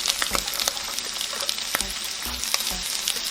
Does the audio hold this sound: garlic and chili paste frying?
yes